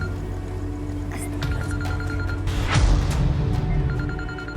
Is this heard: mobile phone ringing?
yes